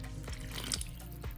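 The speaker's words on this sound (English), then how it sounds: "3/4 cups of water" Water poured from a measuring cup into a bowl of muffin batter mix already holding oil, a steady close liquid stream splashing lightly for about a second and a half.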